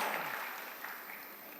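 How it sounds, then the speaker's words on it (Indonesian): A congregation applauds for God during an online church service, a dense, steady clapping that stays fairly close and fades slightly toward the end. "Mau seperti itu, tepuk tangan bagi Allah kita."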